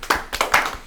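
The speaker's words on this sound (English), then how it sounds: "Clap for that one." A few sharp hand claps from a small group in a room, uneven and sparse, close and loud, with short gaps between bursts.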